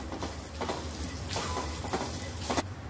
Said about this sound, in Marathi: अद्रक लसणाच्या पेस्टला चांगलं भाजून घेऊया।